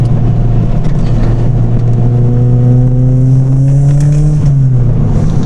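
A modified Ford Fiesta ST Mk6 accelerates on the road, its engine drone loud and close. The pitch climbs steadily through one long pull, then drops briefly near the end as the revs fall.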